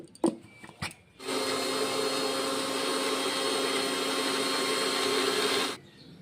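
An electric mixer-grinder grinding spices into a paste, a few handling clicks and then a loud, steady high-pitched motor whine with a rattling jar that runs about four and a half seconds before cutting off abruptly.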